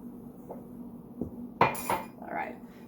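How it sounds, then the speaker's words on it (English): Lids pressed back onto food containers in a kitchen, a few soft taps followed by a sharper plastic clack and rustle, quiet and close with a faint hum underneath. "I'm going to put the lids back on some of these things and set them off to the side"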